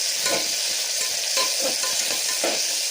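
Onions and tomatoes frying for a tasty pulao give a steady close sizzle with a few soft stirring scrapes across the pan, and no one talks.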